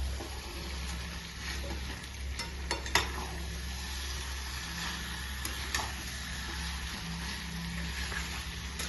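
Spicy mutton kosha with coriander leaves is stirred in a pan, giving a steady soft sizzle with occasional scrapes and clinks of the spoon against metal under a low constant hum, close and without talk.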